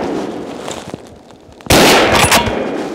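A hunting rifle fires during a driven wild boar hunt in Östergötland: a single loud, sharp blast cuts through quiet outdoor background, then its echo and rumble fade over the following second.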